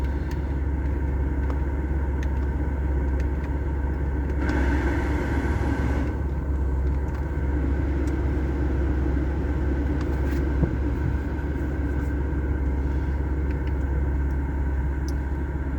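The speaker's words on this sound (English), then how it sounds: "you can hear the pitch change when the compressor's turned off" A car engine idles steadily at close range with a low, even rumble. Its tone shifts briefly when the air-conditioning compressor switches off. No one speaks.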